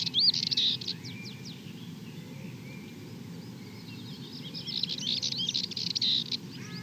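A Dartford warbler calls on heathland at Farnham Heath, giving faint scratchy chirps and short trills near the start and again near the end, over a low steady background rumble.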